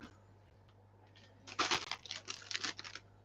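A plastic bag holding catappa leaves crinkles and rustles in several loud bursts, close by, after a quiet stretch with a steady low hum in the room.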